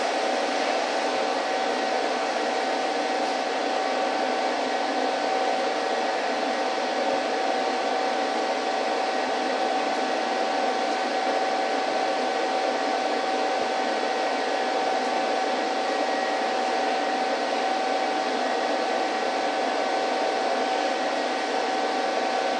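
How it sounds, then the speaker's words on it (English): An Everlast PowerTig 185 inverter TIG welder lays a DC root pass, producing a continuous, even hiss with a faint steady hum, held unbroken for the whole stretch. "we're going to tack weld this up, and you're going to see the arc."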